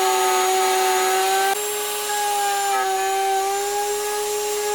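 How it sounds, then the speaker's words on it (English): A router cuts a channel into a wooden mallet head for the handle joint, giving off a loud, steady high-pitched whine whose pitch dips slightly as the bit bites into the wood. "I'm using the router to cut out a channel for the reduced joint on the handle."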